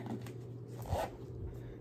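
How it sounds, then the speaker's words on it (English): The zipper on a new 20-inch pillow case is tugged in a couple of short, faint zips with a soft rasp, quiet and close by, with a little low voice in the background. "Oh, the zipper broke."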